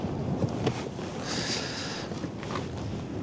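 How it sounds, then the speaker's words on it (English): Wind gusting over a small inflatable fishing boat drifting at sea off the North East coast with a drogue out, a steady broadband rush with louder buffeting gusts against the microphone and faint water noise beneath. "Bloody wind. And that's with the drogue down as well."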